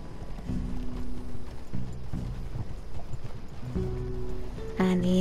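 Horse hooves clip-clop in a steady walking rhythm in Red Dead Redemption 2, loud and close, with a short burst of other game sound at the end.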